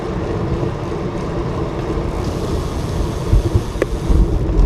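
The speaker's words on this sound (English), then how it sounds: "Woo! Wind!" Strong wind roars steadily across the microphone while cycling on a cold winter commute, with heavier buffeting gusts toward the end.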